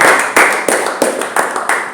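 A church congregation claps in unison during an afternoon service, loud close claps in a steady rhythmic beat, about three per second, with a roomy wash of hands between them.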